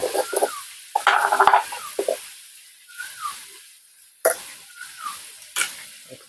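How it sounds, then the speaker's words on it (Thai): Chili and toasted ground rice being stirred into a bamboo shoot chicken curry in a pot, with bursts of scraping, bubbling and sizzling that come and go between short pauses. "คนเข้าไปแล้วทำการคนเลคนเล"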